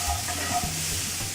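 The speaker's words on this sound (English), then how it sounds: "Give this a little stir." Beef casserole frying in a pot while it is given a brief stir, a short close sizzle with a faint scrape of the spoon.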